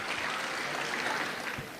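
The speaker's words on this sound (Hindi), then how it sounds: "तो जोरदार तालियों से एक बार रुबीना याज का इस्तकबाल किया जाए।" Loud applause welcoming a poet at a mushaira poetry gathering in Dubai, a thick, continuous roar of many clapping hands from a sizable audience that slightly fades toward the end.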